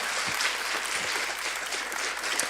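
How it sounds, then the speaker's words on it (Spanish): Congregation applauding during a sermon in a church setting, a steady wash of many hands clapping at moderate, even volume with a few low thumps mixed in. "Si vas a aplaudir, hacelo con ganas"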